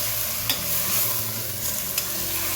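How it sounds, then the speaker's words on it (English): Mutton pieces fry in coconut oil with whole spices, a steady close sizzle and crackle with a couple of faint stirring clicks and no voices. "Next lightly fry this mutton in this coconut oil along with this whole spices"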